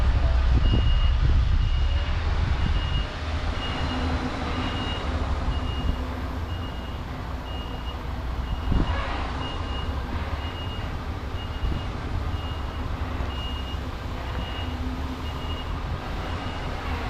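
A truck reverses down a road while its reversing alarm beeps steadily, a thin repeating tone over a loud engine and traffic rumble close by.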